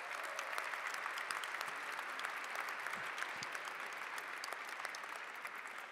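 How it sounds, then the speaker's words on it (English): Audience applause at an Italian heritage ceremony held in a museum, a steady even wash of clapping from a large crowd that carries on throughout, with no talk over it. "Give them all a round of applause."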